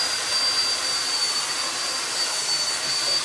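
A hair dryer roars steadily and close by, a constant airy whoosh with a faint high whine, no talking.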